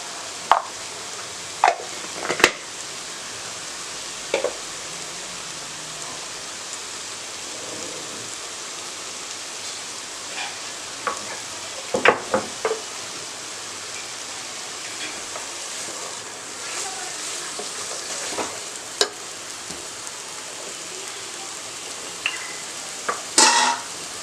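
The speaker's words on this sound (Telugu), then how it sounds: "మసాలా అంతా ఒకసారి కలుపుకుందాం అండి" Masala with a half spoon of turmeric is stirred in a frying pan, with a soft continuous sizzle broken by scattered scrapes and clinks of the spoon against the pan.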